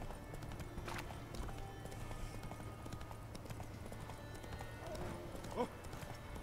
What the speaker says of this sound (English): the swamp is not a good environment for a horse